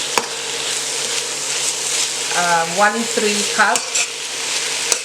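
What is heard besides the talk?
onions frying in a pan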